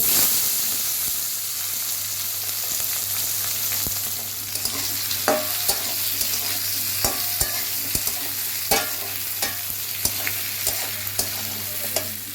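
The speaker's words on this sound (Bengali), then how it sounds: "সবজিগুলো ভাজা হয়ে গেছে লাল লাল করে" Vegetables and tomato fry in a pan for a small tangra fish curry, giving a steady soft sizzle broken by repeated sharp clicks and scrapes of stirring, with no talking.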